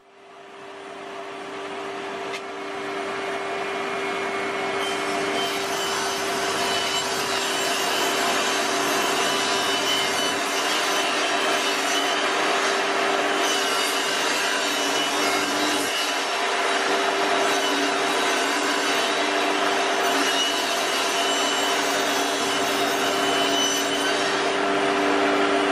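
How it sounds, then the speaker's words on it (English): A saw rips plywood into strips for a honeycomb table core, a loud, steady, continuous whining cut with a constant tone that runs unbroken for the whole stretch after a quick spin-up. "ripping down strips of ply to form the honeycomb core"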